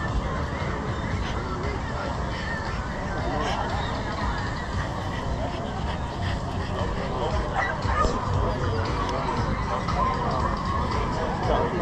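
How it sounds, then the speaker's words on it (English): Several dogs barking at an outdoor pig pickin' gathering, scattered yips and barks mixed into a constant babble of crowd chatter, with people talking nearby throughout. "So many dogs out."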